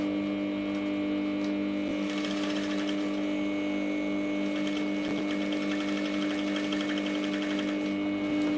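A sewing machine stitching a beginner's top with puffy sleeves runs as a steady, even mechanical whir and hum, close and alone throughout with no talk.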